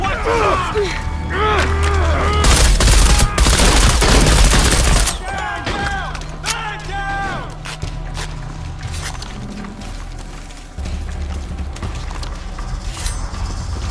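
Loud bursts of gunfire in Shadow of the Tomb Raider, heavy volleys in the first five seconds, then sparser shots over a rumbling, busy game soundscape, with voices shouting and speaking throughout.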